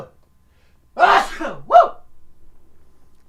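A single close, loud human sneeze, explosive with a quick second burst, followed by a brief breathy exhale.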